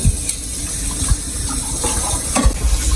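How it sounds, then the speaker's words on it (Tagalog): Running tap water splashes steadily into a sink while dishes are washed, with occasional soft knocks of crockery over the continuous flow. "Kaya po ay naghuhugas ngayon si Bossing."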